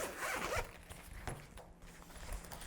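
A zipper on a fabric case for a knitting needle set is pulled open in a close, quiet, quick zip, followed by soft rustling and handling.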